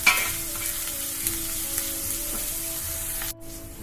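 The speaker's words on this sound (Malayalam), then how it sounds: "സവാള ചേർത്ത് ഫ്ലെയിം മീഡിയം ഫ്ലെയിമിൽ വെച്ച് സവാള നന്നായിട്ട് ഗോൾഡൻ ബ്രൗൺ ആകുന്നത് വരെ കുക്ക് ചെയ്യാം." Sliced onions sizzling and frying in oil over a medium flame during Kerala-style clam fry preparation, a steady close crackle with occasional stirring scrapes and a faint tonal hum beneath.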